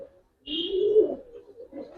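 Single pigeons on a Giribaz coloring pigeon farm give a soft low coo lasting about a second, with a brief higher chirp near its start, followed by fainter murmuring at close range.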